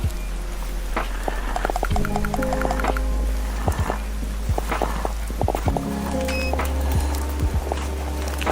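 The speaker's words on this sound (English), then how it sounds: "That's what I call an aggressive pour." A drink is poured fast and hard into a glass, with steady splashing and gurgling plus scattered clicks and knocks over a low background hum.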